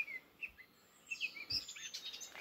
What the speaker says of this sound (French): on entend beaucoup de chants d'oiseaux